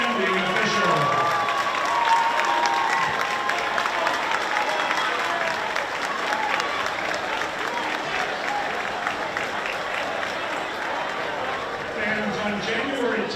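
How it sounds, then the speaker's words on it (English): A basketball gym crowd applauds game officials, sustained clapping and some cheering filling the space at a constant level, with a voice or two audible among the noise. "give a big round of applause for these outstanding officials"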